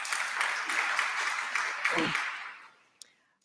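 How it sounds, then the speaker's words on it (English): An audience at a downtown DC candidate forum on criminal justice reform applauds in a sustained, moderately loud round that fades out near the end, followed by a single sharp knock. "give yourselves another round of applause for picking a great location here in downtown DC"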